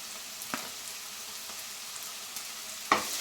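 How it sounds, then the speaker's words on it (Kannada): Ginger garlic paste fries with golden-brown onions in a pan, a steady soft sizzle with occasional light stirring scrapes and a sharper clack near the end, close and alone. "ಹಸಿ ಸ್ಮೆಲ್ ಹೋಗೋವರೆಗೂ ನೀಟಾಗಿ ಹುರ್ಕೊಳ್ಳಿ"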